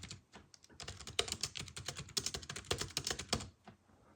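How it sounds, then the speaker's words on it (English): Close, quiet typing on a Palm portable keyboard connected through a Bluetooth adapter, a quick irregular run of key clicks lasting a few seconds with no talking. "Let's try to type something."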